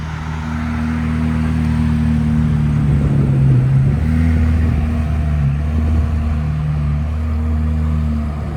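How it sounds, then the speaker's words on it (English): A C8 Corvette Stingray rolls out of a dealership lot, its engine giving a steady low rumble with mild rises in pitch as it pulls away, heard from close inside or beside the car. "so we are pulling out of the dealership now"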